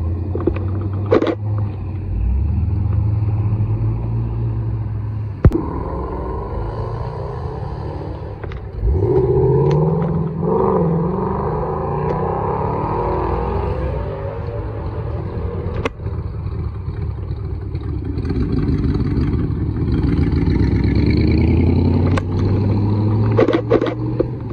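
A Ford Torino pulls away from Oulton Park with a loud, deep engine rumble that swells and holds. A few sharp clicks and bumps break in over the sustained low drone, and other engine noise is around it.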